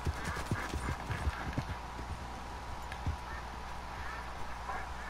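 Horse hooves clip-clop in a quick, uneven patter in the Red Dead Redemption 2 video game, fairly faint over a low ambient hum, then thinning out into scattered steps.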